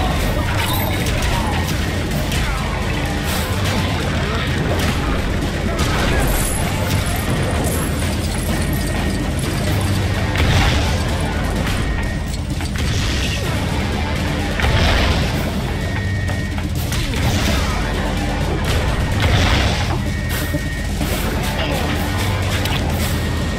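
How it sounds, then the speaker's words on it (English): Loud, busy explosion and crashing mechanical clatter in LEGO Marvel Super Heroes on PC, a sustained dense din of booms and rattling debris with voices speaking over the action throughout. "Confirmed by big explosion."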